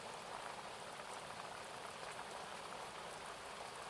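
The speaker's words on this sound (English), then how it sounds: "The sound of the rain," Steady rain falls on a quiet farmhouse, a soft, continuous hiss with dense patter across the whole clip and no voices.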